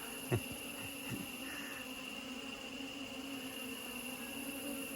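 Honeybees swarm around a hive during a box change, giving a faint, continuous buzzing drone with a steady high whine and a brief knock near the start.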